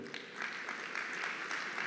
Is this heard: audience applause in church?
yes